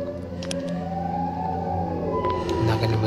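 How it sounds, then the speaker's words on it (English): Siren Head's wailing siren in a horror video game, a sustained, slowly pitch-bending drone with layered harmonic tones, steady and fairly loud with faint clicks over it. "I can hear Siren Head though."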